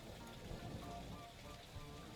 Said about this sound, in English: I swear the rain just got louder.